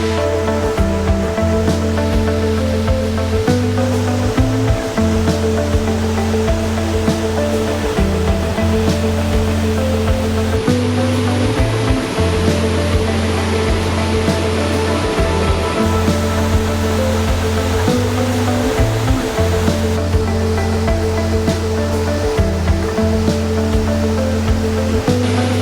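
Roadside waterfall in Georgia roaring steadily and loudly up close, a dense continuous rush of falling water with no voices over it.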